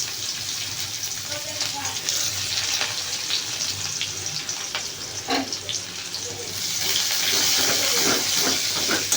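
Chopped onions sizzle in hot oil tempered with dried red chilli and nigella seeds, a steady frying hiss with crackles and watery spatter, close up, with a few soft background sounds.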